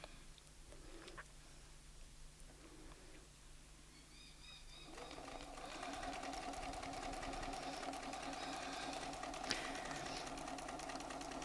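A Bernina sewing machine stitches fabric during free-motion ruler work, starting with a faint, sparse mechanical whir and then settling into a steady, louder continuous running hum from about the middle onward.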